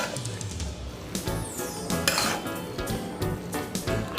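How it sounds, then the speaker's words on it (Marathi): A spoon scrapes and clinks against a metal bowl while chopped coriander is mixed into cooled spiced potato filling for vada, in irregular clattering strokes close up, with no voices. "कोथिंबीर मी मिक्स करून घेते सारणामध्ये."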